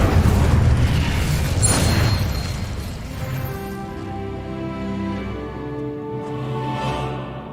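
An Incendio fire spell in Hogwarts Legacy bursts with a loud, close boom and roaring rush that fades over several seconds into a lingering magical hum and ringing tones.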